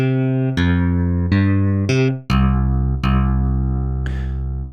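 Electric bass patch on the Reason Thor wavetable synthesizer, played with hard key velocity for a strong pluck: several loud, close, sustained low notes, each starting with a sharp attack, in a slow sequence with no talking.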